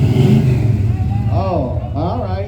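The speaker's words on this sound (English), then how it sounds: "Can you rev that engine for me, young man?" A classic car engine revs at a festival parade, a low rumble swelling into two rising revs while someone talks over a PA.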